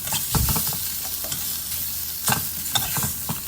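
Pork leg stir-fried with southern Thai curry paste sizzles loudly in a pan, with bursts of scraping and stirring clatter recurring through the frying hiss.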